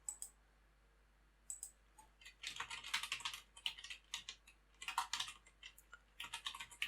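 Fingers type on a computer keyboard in close, quiet bursts of rapid key clicks separated by short pauses, with no one speaking.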